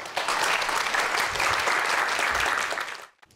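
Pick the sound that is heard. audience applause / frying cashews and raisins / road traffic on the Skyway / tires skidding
audience applause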